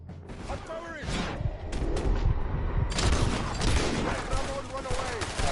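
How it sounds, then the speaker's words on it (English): Artillery barrage in Red Dead Redemption 2 rolls on as repeated heavy booms and crashing blasts over a dense, continuous battle din, with shouting voices mixed in. "Artillery!"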